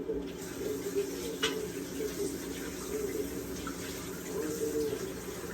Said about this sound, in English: I'm going to rinse my spoon